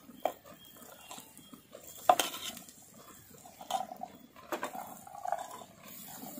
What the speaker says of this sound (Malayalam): നമുക്കിനി ചാമ്പയ്ക്ക അതിലേക്ക് ഇട്ട് കൊടുക്കാം